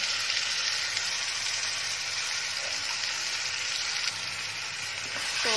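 Paneer curry masala with curd fries in a pan, giving a steady, close, even sizzle throughout with no voices.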